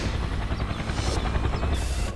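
A helicopter in flight gives a steady, loud, continuous whir of rotor and engine noise throughout, with no voices over it.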